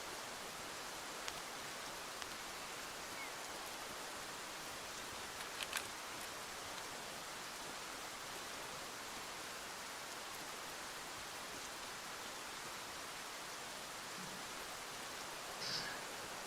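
Rain ambience in Escape from Tarkov, a steady soft hiss of falling rain with faint scattered drips and rustles, continuous and even throughout.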